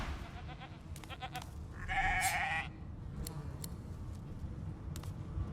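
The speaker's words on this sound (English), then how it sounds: "Shaking her fluffy coat, the sheep eyes you balefully" A sheep bleating in the fantasy role-playing game Divinity: Original Sin II, one loud, wavering bleat standing out briefly over a faint ambient game background with a few soft clicks.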